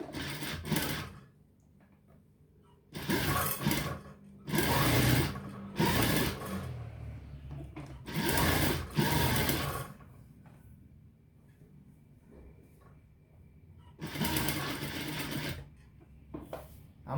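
A sewing machine stitches a kameez in several loud, sustained runs of whirring, separated by quiet pauses, with no talking.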